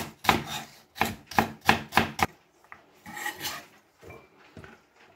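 A knife slices celery stalks diagonally on a cutting board, six quick crisp rhythmic strokes, then a pause and a few softer, slower cuts.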